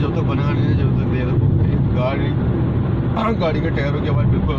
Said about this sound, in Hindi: गाड़ी के टायरों की आवाज़ बिल्कुल अलग।